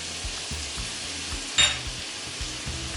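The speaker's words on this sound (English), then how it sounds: "Let's go ahead and also add in the minced garlic," Minced garlic sizzles in sesame oil in a pan for steak fried rice, a steady close hiss broken by soft scrapes and one sharp utensil clink against the pan.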